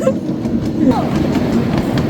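A train runs on rails, heard from on board as a loud, steady rumble with a faint clickety-clack rhythm, and faint voices are in the background.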